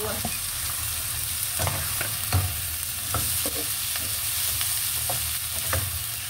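String beans (sitaw) frying in a pan, with a steady loud sizzle and occasional scrapes and clacks of stirring over it.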